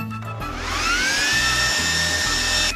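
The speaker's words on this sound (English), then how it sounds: "Once you get it all sanded down, you're going to want to bring in the leaf blower." A leaf blower blows sanding dust off furniture with a loud, steady motor whine that rises in pitch as it spins up and then holds at full speed, close by.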